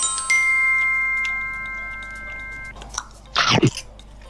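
Close, crunchy bites on spicy pickled fermented tofu that has been steeped in chili and stored in a jar, with a brief steady tone at first, then a short cluster of moist chewing near the end.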